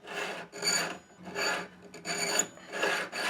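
Fret file rasping on the treble-side frets of a 1962 Gibson SJ acoustic guitar during a fret dressing job, five steady back-and-forth strokes in an even rhythm, close and clear with no talk.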